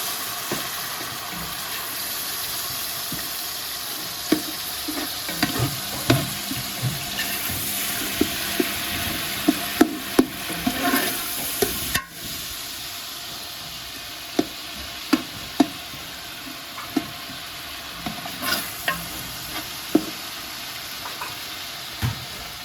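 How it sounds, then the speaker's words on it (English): Onions frying in a pot for Durban-style South African Indian breyani, stirred with herbs: a soft continuous sizzle broken by scattered scraping and clinking strokes of the spoon, fairly quiet, with no voices. "Give it a good stir to infuse with the onion."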